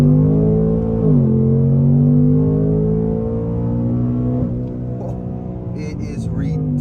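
A 2024 Mustang GT Premium engine revs hard in second gear, its pitch climbing steadily with a brief dip at a shift, loud and close inside the cabin, with a few faint clicks near the end.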